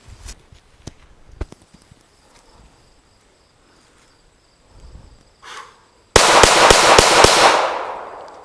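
Five rapid gunshots from an AR-15 or 1911 at a target, loud sharp cracks close together after a mostly quiet stretch, no talking.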